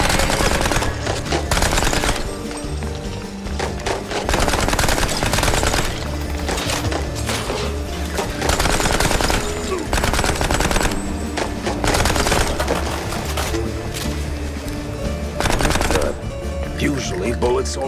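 Gunfire fills the Mouse P.I. for Hire video game: rapid bursts of machine-gun fire and single shots crack loudly and repeatedly over game music, with voices talking at times.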